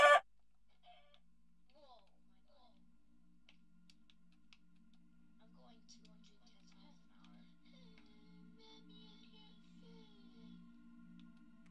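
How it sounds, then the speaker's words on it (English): A Minecraft chicken clucks in a short run of soft, intermittent clucks against a quiet game ambience with a faint low hum, near and fairly faint, after a brief sharp burst at the start. "Why is there still a chicken in my world?"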